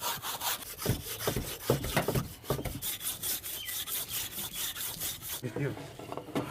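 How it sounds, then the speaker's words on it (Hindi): A hand saw cuts through a big frozen homemade kulfi ice popsicle in a village, its steady back-and-forth rasping strokes close and continuous throughout, with no talking. "आरी के साथ अब कुल्फ़ी जो है ये काट लेंगे"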